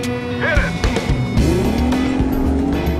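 Two Evinrude E-TEC outboard boat engines of equal horsepower race side by side at full throttle, giving loud, whining engine tones whose pitch sweeps upward over a rough, constant roar.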